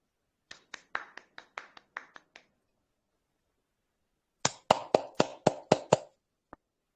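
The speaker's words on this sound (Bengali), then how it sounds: "আসুন সবাই করতালির মাধ্যমে স্যারকে আমরা অভিবাদন জানাই" An audience at a stage event applauds to welcome a singer, with two separate bursts of sharp, evenly spaced claps, a run of about nine and then about eight, followed by one stray clap, with silence between.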